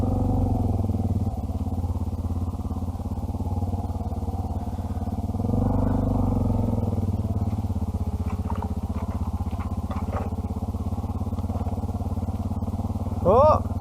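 A Honda Africa Twin and a Suzuki DR650 rumble slowly through thick forest scrub, their engines droning low and steady, with brush scraping and clattering against the bikes and a short sharper burst near the end.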